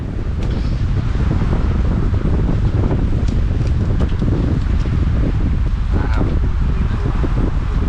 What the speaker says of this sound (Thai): ตอนนี้ลมพัดตลอดเลย